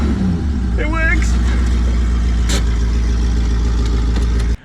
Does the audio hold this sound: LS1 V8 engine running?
yes